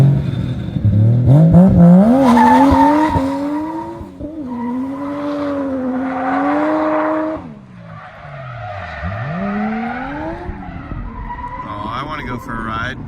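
A drift taxi at a Japanese car festival slides around a corner, its engine revving and dropping while its tyres squeal in long wavering skids, loud and nearby, with a little talk from the crowd.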